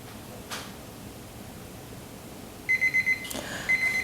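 A kitchen timer goes off after a two-minute tea steeping, giving a quick run of four sharp electronic beeps and then one more, loud and close over faint room hiss.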